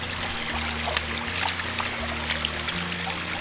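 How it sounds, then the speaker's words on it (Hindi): Clear stream water flowing down from a waterfall near Korigad Fort, a steady close rushing and trickling wash with a low hum beneath, no talking. "उस झरने में से वो पानी आ रहा है और यहाँ पे बह के कितना साफ पानी है।"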